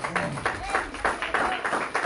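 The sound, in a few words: applause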